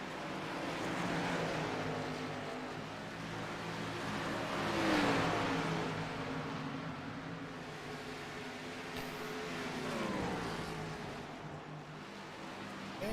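Race cars lap Dover International Speedway in a 125 race, with a distant, rising and falling engine roar that swells as cars pass and then fades, heard over steady broadband noise.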